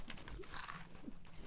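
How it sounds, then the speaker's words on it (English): Doritos tortilla chips being crunched and chewed close up, a few crisp bites with soft plastic-bag rustling, no voices. "The crunch is the quiet."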